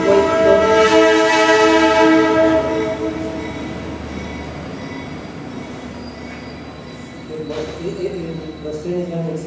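A train rumbling past with a long horn blast, squealing wheels and a steady clatter of rail cars, loud at first and fading slightly before another horn sounds near the end.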